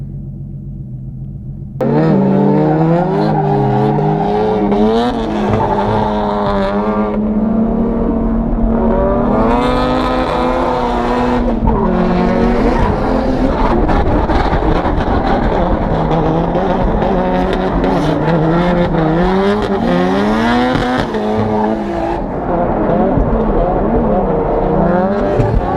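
A Toyota JZX100 drift car in a competition battle, engine revving hard and loud near the microphone after a quiet start, rising and falling through gear changes with tire squeal and road rumble, with occasional talk under it.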